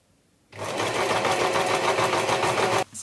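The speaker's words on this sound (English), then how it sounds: "So now I can start sewing this." A sewing machine starts abruptly and runs at a steady, loud, even whir while stitching a T-shirt, holding one continuous buzzing drone for a couple of seconds before stopping sharply.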